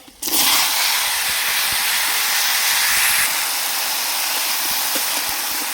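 Sliced potatoes and ridge gourd dropped into hot oil with dried chilli and five-spice burst into a loud, close hiss that holds steady for several seconds and eases slightly toward the end.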